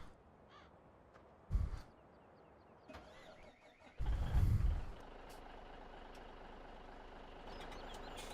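A Kenworth truck in a farming video game starts up with a hiss and low engine rumble, followed by a steady idle, with faint reversing beeps and crow caws in the background.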